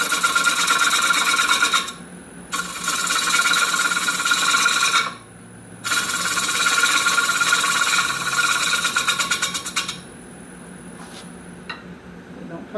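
Lathe turning the lip of a cherry wood bowl, with a loud, steady scraping hiss from the tool on the spinning wood in three long passes separated by brief pauses.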